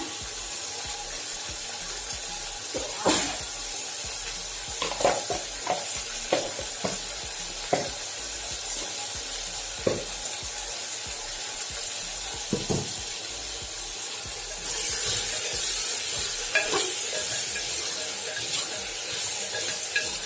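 Eggplant sautéing with rock salt and turmeric in a clay pot, a continuous hiss of frying broken by scattered scrapes and clicks of stirring, growing brighter and louder in the final seconds, with no voices.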